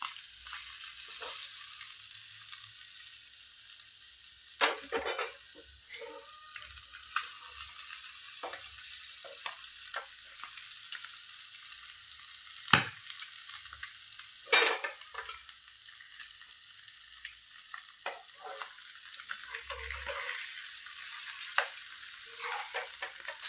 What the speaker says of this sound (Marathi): हे बघा चांगले मासे भाजून घ्यायचे बघा.